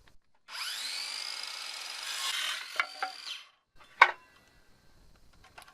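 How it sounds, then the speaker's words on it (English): A used, factory-reconditioned 18-volt NiCad cordless saw cuts wood with a close, sustained motor whine and rasp for about three seconds, then winds down. A few knocks and a sharp clack follow. "For a NiCad 18-volt saw, it does alright."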